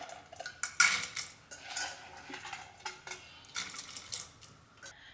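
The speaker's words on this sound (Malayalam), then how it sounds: "ഈ പരിപ്പിനി നമുക്ക് ഒരു പ്രഷർ കുക്കറിലേക്ക് ഇട്ട് കൊടുക്കാം" Washed toor dal tipped into a metal pressure cooker for a drumstick and raw mango curry, giving a few close clinks and rattles of grains and utensil against the pot, with scattered softer knocks in between.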